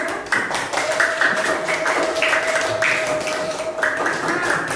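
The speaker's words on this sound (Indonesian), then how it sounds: "tepuk tangan untuk kita semuanya" Classroom of students clapping together at a group presentation session, a steady patter of many hands mixed with a sustained tone and faint voices, moderately close and continuous throughout.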